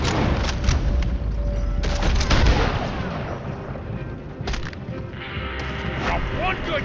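Gunfire in a Red Dead Redemption 2 shootout during a dynamite wagon robbery in Van Horn, several loud booming shots over rumbling chaos, with voices shouting amid the din.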